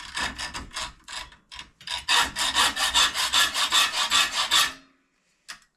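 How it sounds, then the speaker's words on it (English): Hacksaw cutting through metal spring wire during a homemade spring build: a few short hesitant strokes, then a steady run of rapid back-and-forth rasping strokes, close and fairly loud, ending abruptly, followed by a brief faint clink. "I'll just use the hacksaw"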